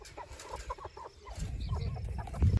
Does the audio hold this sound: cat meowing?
no